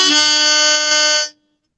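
A blues harmonica draws a single steady note, loud and close, held for just over a second before it cuts off into silence.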